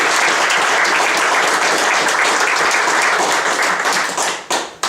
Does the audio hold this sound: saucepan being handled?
no